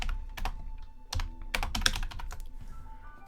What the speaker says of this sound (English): Oops, I'm not typing in the box.